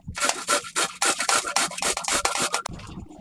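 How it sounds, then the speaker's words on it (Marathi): Cabbage is finely grated with quick, rhythmic rasping strokes, each a loud scrape, about a dozen in a row before a brief pause. "इथे मी कोबी असा बारीक किसून घेतलेला आहे"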